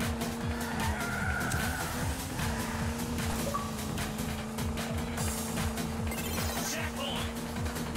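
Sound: car drifting with tire squeal in video game Hot Shot Racing

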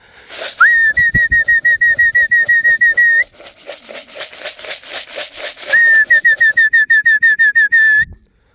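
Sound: racing pigeons arriving at loft

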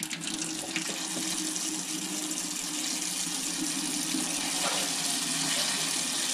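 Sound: water running from a tap

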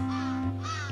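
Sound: bird cawing in the video game Santa Clause In Trouble

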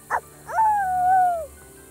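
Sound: child imitating a dog barking

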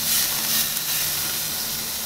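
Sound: steak sizzling on a grill

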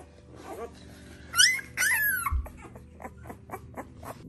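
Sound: pregnant puppy whimpering

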